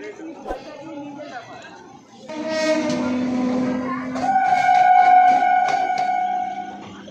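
Train at Sealdah station platform sounding a loud, sustained multi-tone horn, blasting in two long stretches over station rumble and crowd chatter, with people talking nearby.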